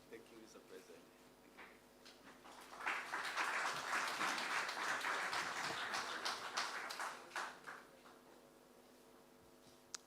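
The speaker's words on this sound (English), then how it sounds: "after you've gotten all that clap" An audience at a report launch event applauds, building to a swell in the middle and then trailing off to scattered claps, with speech before and around it.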